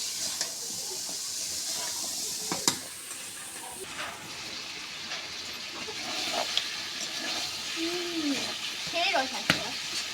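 Taro stolons, pointed gourd and potato coated in spices stir-fry in a pan with a steady hiss and sizzle, punctuated by a few sharp clinks of a spatula against the pan, with a brief murmur of voice.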